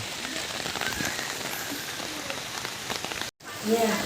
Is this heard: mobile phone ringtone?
no